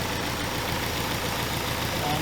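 A turbocharged, LS-swapped BMW E36 engine idling, a steady, loud, dense rumble that holds unchanged for the whole stretch with no pauses.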